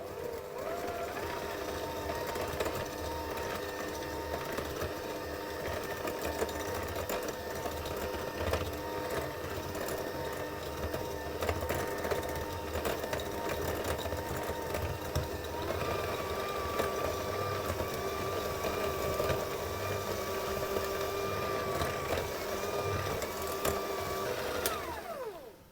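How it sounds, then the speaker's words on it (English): A hand mixer runs steadily, creaming butter into sugar, with a continuous whirring motor hum that holds at an even level throughout with no talking. "And I'm using my hand mixer, but you could easily do it by hand."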